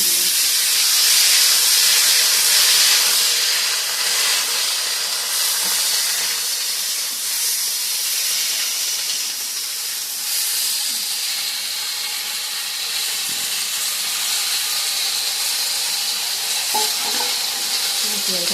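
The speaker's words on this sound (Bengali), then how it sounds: "তো আমি বটবটি আলু ভাজাটা বসিয়ে দিলাম।" Potatoes frying in hot oil in a pan, a loud steady hiss and sizzle that runs unbroken and close, with a few faint clicks and no talk.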